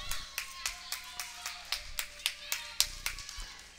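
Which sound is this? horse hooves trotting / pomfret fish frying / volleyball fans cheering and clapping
volleyball fans cheering and clapping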